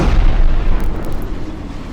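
Aircraft hit by a missile in the VTOL VR flight game, heard as a loud, close explosion with a deep rumbling boom that holds for the whole two seconds.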